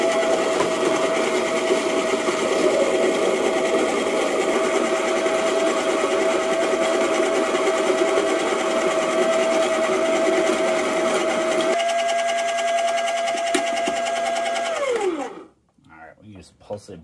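A Power Llama Plus coffee grinder motor whirs steadily at a constant pitch for a long stretch, then winds down and stops, leaving near silence with a few faint clicks.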